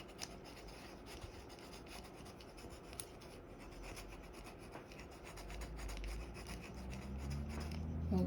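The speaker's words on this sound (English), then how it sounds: "we're laying it flat on the glass and we're just rubbing it" Steady dry rubbing and scraping as Cricut vinyl is pressed flat onto glass, a continuous close rasp with a low hum building toward the end.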